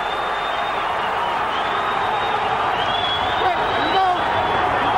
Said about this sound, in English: the crowd reacting for Spadafora